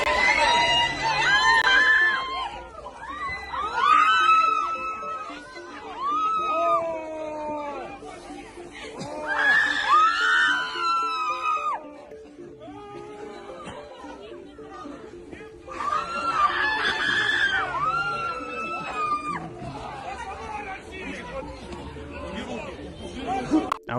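A woman howls and wails loudly in repeated rising and falling cries while a crowd screams and chatters around her, recorded amid the war in Ukraine.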